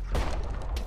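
Gunfire in a video game, a short, loud burst of booming shots with a heavy low thump followed by a quick crackling rattle.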